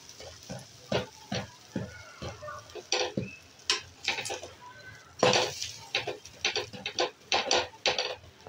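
A cheese bread omelette made with sliced bread, egg and butter is flipped in a pan, giving a run of close, sharp clinks and scrapes of a utensil against the pan over a soft, steady sizzle of butter.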